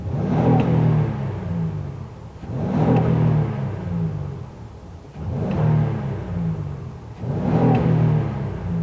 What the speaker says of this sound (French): Au niveau de la révolution moteur, vous allez être impressionné de la sonorité que ça a.